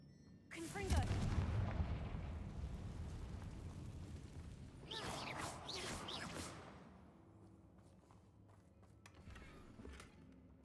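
Confringo fire spells burst in Hogwarts Legacy as a loud booming explosion followed by a second crackling blast a few seconds later, each trailing into a rumble, with a voice shouting over the action.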